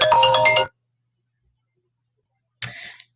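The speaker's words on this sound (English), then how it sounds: "Whoops, my phone's ringing." A mobile phone ringtone plays a short bright melodic burst, falls silent for about two seconds, then starts again, close and clear with no voices.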